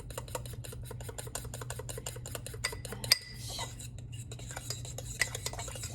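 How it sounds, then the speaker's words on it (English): A fork or spoon beats egg and almond flour together in a bowl, making quick, regular clinking and scraping taps against the dish, quiet and close, with a low hum underneath. "mix it up really good and make sure that egg gets beaten and the almond flour gets all mixed up"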